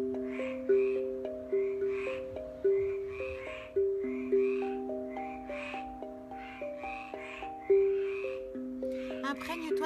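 Frogs croak in repeated rhythmic pulses beside sustained tonal instrument notes during an outdoor meditation, moderately loud and steady, with a brief chirping burst near the end.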